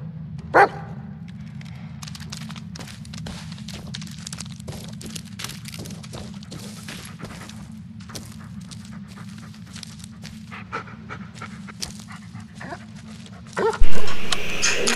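Dog in the Blair Witch horror game giving a couple of short barks and yips amid scattered movement noises, with a low steady ambient rumble underneath and a louder burst near the end.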